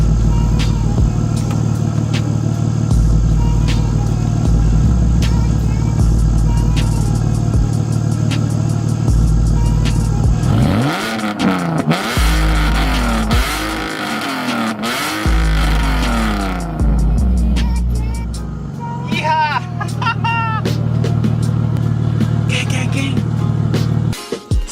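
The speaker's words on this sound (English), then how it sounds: "here's some revs right here" BMW E46 with aftermarket headers and exhaust, idling with a loud low rumble before several sharp revs rise and fall in quick succession near the middle, then settling back to idle; people talk briefly.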